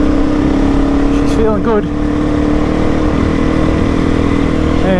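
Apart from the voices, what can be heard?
motorcycle engine revving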